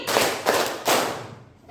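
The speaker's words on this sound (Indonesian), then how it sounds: "Tepuk 3 kali." Three loud unison claps from a classroom group ring out at an even, brisk pace, each a crisp burst, then fade into quiet.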